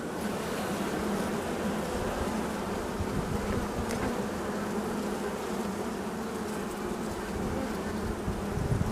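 A bee colony seethes at the hive in a dense, steady hum of countless wings, close and unbroken throughout.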